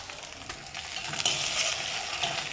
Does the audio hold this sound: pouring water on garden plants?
no